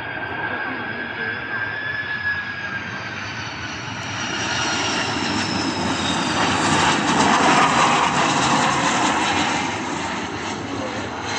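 A Qatar Airways Airbus A330-300 airliner comes in to land at an airport, its loud continuous jet engine roar building and whining as it passes close overhead, with wind noise throughout.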